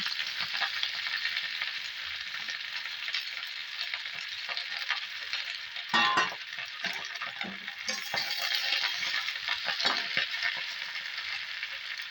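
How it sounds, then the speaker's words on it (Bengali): Washed giant taro (ghetkol) leaves dropped into hot oil in a wok, giving a steady bright sizzle with a brief burst of stirring and clatter midway, close and without talk. "ধুয়ে রাখা এই ঘেটকোলগুলোকে এবারে কড়াইতে একটু ফেলে নেব"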